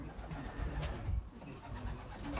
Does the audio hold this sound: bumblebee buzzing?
no